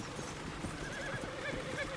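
Horse in the video game Red Dead Redemption 2, pulling a wagon along a road: soft, steady hoof clops under a faint, high whinny, quiet and distant-sounding.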